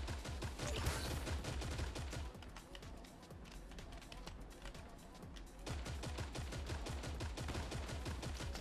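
Rapid bursts of automatic gunfire crackle through a Call of Duty match, dense and continuous, with a brief lull midway and a player talking over the shooting.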